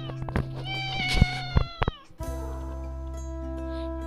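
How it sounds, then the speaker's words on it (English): A cat gives a couple of clear, drawn-out meows close by. A steady tonal hum runs beneath them. "This is a cat."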